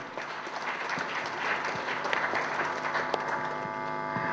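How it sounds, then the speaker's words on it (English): An audience at a manufacturing industry conference gives a moderate, steady round of applause with scattered sharper claps. A low electrical hum runs underneath throughout. "let's give a big round of applause to Mr."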